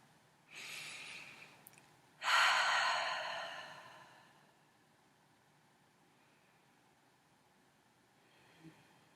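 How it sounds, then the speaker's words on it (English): Deep cleansing breaths at the start of a guided compassionate body scan meditation: a soft inhale, then a longer, louder exhale that slowly fades into quiet, close and alone without talk. "taking a couple of deep, cleansing breaths as to bring ourselves into the present moment"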